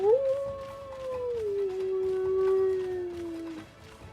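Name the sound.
person imitating a wolf howl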